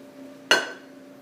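Hot, slightly al dente cooked rigatoni tipped into a bowl holding a ricotta and mozzarella mixture for baked ziti, landing as one brief, close clattering splat that quickly fades against a quiet room hum, with no talking.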